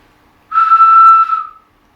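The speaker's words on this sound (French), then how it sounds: "C'est un petit sifflet que j'adore." A small toy whistle gives one clean, steady tone lasting about a second, loud and close, starting abruptly and tailing off softly in silence.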